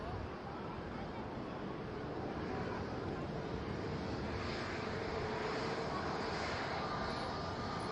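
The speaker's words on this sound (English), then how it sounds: "the A380 up relatively early, but still looking fairly heavy as well" An Airbus A380 climbs away from Manchester Airport after takeoff, a broad, sustained engine roar heard from a distance that builds gently and stays steady, with no voices over it.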